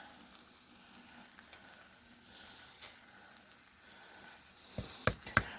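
Fried rice sizzles in a pan with a soft steady hiss, then a few sharp clatters of stirring near the end; no talking.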